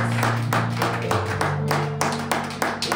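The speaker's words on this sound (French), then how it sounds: "We continue to clap for the Lord Jesus." A church congregation claps for the Lord in steady rhythmic unison, sharp regular beats of many hands together, loud and close, with a sustained musical tone underneath.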